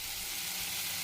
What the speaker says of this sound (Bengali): দিয়ে ভালো করে পেঁয়াজটা ভেজে নিচ্ছি